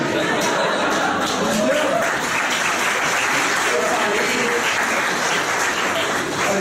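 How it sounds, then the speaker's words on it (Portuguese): Sustained audience applause fills a lecture hall at a conference, steady and dense throughout with a murmur of chatter and a few chuckles mixed in. "os senhores aplaudiriam já para acabar a conferência"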